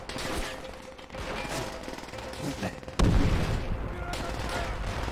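Gunfire in Call of Duty: World at War, a video game, as a battle rages: repeated rifle and machine-gun shots crackle amid explosions and booms, with a loud blast midway and dense combat noise continuing, voices faintly mixed in.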